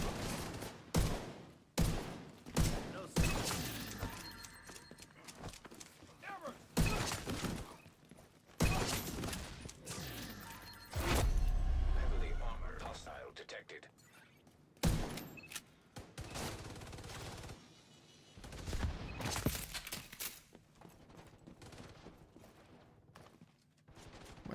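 Bursts of gunfire in The Division 2, with repeated loud shots and rapid volleys spread across the whole stretch, some heavy thuds mixed in, and no talking.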